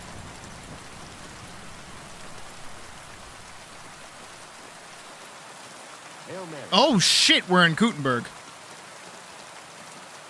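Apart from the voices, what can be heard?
rain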